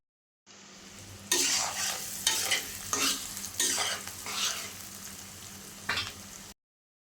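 Taro flowers fry in a pan with a steady close sizzle, punctuated by several louder bursts of stirring and scraping, with no voices.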